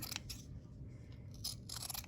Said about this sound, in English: I just cut as close to the tile as I can, and I kind of angle my scissors a little bit